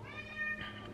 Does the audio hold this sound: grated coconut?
no